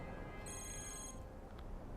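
A telephone rings in a video game: one bright, high electronic ringing burst of about a second over a steady low background hum, with no voices.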